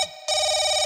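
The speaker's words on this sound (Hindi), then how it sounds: "फोन उठा" A telephone rings during a stage nautanki show: a brief, steady electronic ring tone starts abruptly after a short silent gap and holds evenly.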